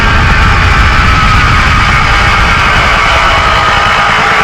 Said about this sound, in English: Without the airbox on it, it's actually quite loud.